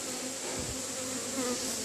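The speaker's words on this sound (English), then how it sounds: "There's certainly a quantity of bees here." Honeybees buzzing at a hive in autumn, a dense steady drone of many insects close by, with a few individual bees swelling louder as they pass.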